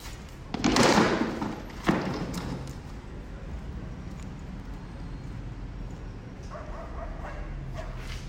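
A dog barks loudly up close, two sharp bursts near the start and middle, followed by softer yips and whimpers over a constant background hum.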